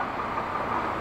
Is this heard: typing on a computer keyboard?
no